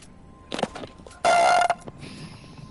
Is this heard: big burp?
yes